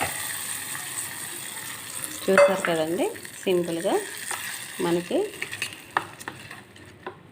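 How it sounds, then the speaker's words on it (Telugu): Hot tempering goes into ginger chutney and is stirred through, giving a few distinct scraping, sizzling stirs in a pan after a quiet start, with a brief spoken word. "సో పోపు ఇందులో యాడ్ చేసేసుకుంటున్నాను."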